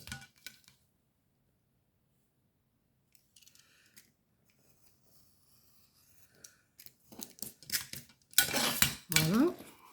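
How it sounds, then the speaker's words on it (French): Scissors snip scraps of paper for a collage card, a few quiet cuts early on, then denser, louder snipping and paper handling building toward the end. "il y a des petits bouts qu'il va falloir que je recoupe au ciseau"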